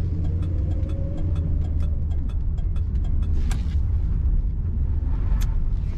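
A stock 1978 Chrysler Cordoba on the road, its engine a steady low rumble with a continuous roar of tyres and wind and a few faint clicks and knocks over the top; no one speaks.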